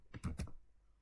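Typing on a computer keyboard gives a few quick clicks in a short burst, a pause, then one more key strike, close and fairly quiet.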